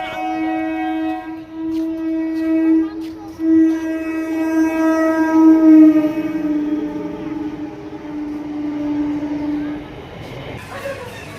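A long, loud tonal train horn blares at a railway station for about ten seconds, holding one pitch before fading.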